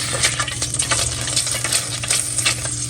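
Garlic paste frying in a pan for a chicken changezi, a steady close sizzle with light stirring scrapes running throughout, no voices.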